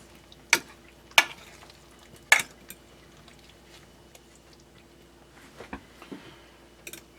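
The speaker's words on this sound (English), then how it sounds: "So you just have to mix it until you make sure all of the corn tortilla pieces are completely covered and saturated with the sauce." A spoon scrapes and stirs through an enchilada casserole mix of corn tortilla pieces, enchilada sauce and cheese, giving a few distinct clinks and scrapes against the dish with quieter shuffling between.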